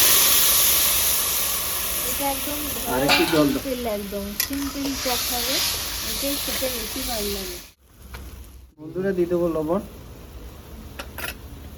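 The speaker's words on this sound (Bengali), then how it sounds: "শুকনো লঙ্কা জিরেটা আমার ভাজা হয়ে গেছে এবার আমি তেঁতুলের জল দিয়ে দিচ্ছি" Tamarind water poured over fried dried chillies and cumin, hissing and sizzling steadily in the pan while a person talks over it, with a brief pause before the talking and sizzle resume.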